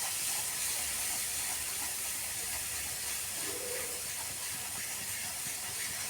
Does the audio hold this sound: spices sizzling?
yes